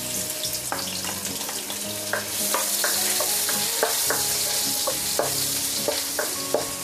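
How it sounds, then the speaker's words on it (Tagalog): Five cloves of minced garlic sauté in a pan, giving a continuous close sizzle broken by repeated clinks and scrapes of a utensil stirring against the metal. "paggigisa na tayo. Unahin muna natin ito 5 cloves na minced garlic"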